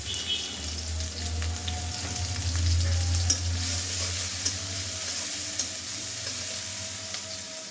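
Chopped onions frying in oil with garlic and green chillies in a pan, a dense, even sizzle and crackle that runs the whole time over a low steady hum, close and fairly loud with no speech.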